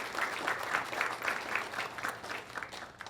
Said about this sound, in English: can we first start by giving a round of applause to Aramark